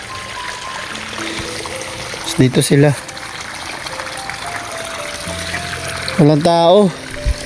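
A large volume of water flows steadily and continuously nearby, with people talking over it at moments.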